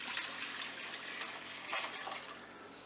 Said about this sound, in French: je vais mettre le bouillon dans un saladier